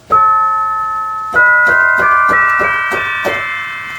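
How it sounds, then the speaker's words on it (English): Synthesizer tubular bell tones ring out loudly in a dawless hardware setup, two long sustained strikes with bright overtones followed by quicker repeated hits that keep ringing without being damped. "Kind of weird thing about this tubular bell sound is it doesn't have a mute."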